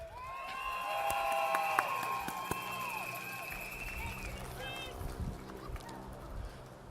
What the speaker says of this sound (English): can you please, a round of applause to the interpreter